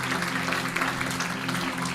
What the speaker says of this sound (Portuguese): você pode dar uma salva de palmas bem forte para Jesus